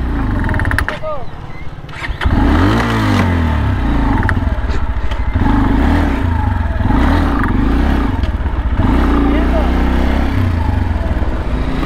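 An Italika V200 motorcycle in fifth gear on a rural road runs at full throttle, with a loud, close engine drone and wind rush that holds steady after a brief dip near the start, while the rider talks over it.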